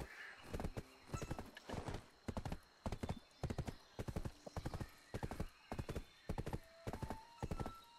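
Horse hooves in the video game Black Desert, a close, regular clip-clop of galloping strides repeating in steady rhythm, with faint whinny-like tones mixed in.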